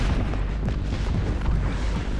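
Grenade explosions in the battle royale game Apex Legends, heard as a continuous rumbling boom with dull thuds rolling together, fairly loud, with no voices over it.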